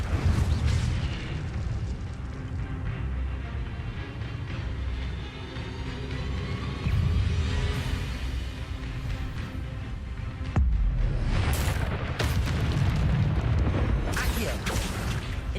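Incendio fire spell blasts in the Hogwarts Legacy video game, repeated booming bursts and crackling impacts over rumbling combat noise, with a voice calling out between them.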